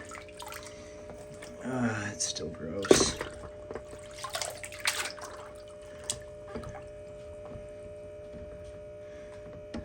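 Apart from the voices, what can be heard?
rinsing a pump basket in muddy water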